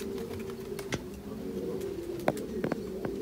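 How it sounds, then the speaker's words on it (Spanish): Homing pigeons coo softly in a steady low murmur from a loft, with a few sharper flutters or clicks standing out briefly against the continuous cooing. "Están asustados los palomos."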